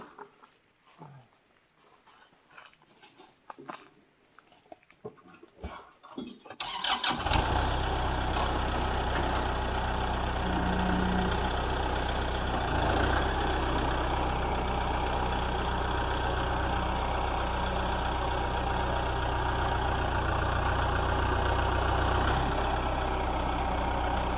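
A tractor with a front bucket, quiet at first with faint rustling, then its engine starts abruptly and settles into a loud, steady diesel idle that runs unbroken to the end, close by.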